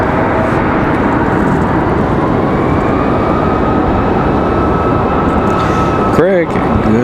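CRJ regional jet turning on approach at Raleigh-Durham International, a steady loud engine rumble with a faint whine, ending in a short warbling tone.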